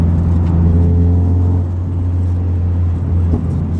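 A 406bhp Vauxhall Corsa VXR engine holds a loud, steady deep rumble close up, with a slight rise and fall in revs and no voices.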